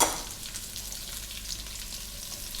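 Carrots, cauliflower and broccoli fry in a pan with a close, steady sizzle and crackle that holds evenly from start to finish, with no voices.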